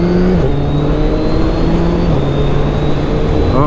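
Close, loud engine roar and wind rush from a 2022 Suzuki Hayabusa motorcycle at speed, with the tone stepping down as it downshifts and lurches, continuous throughout.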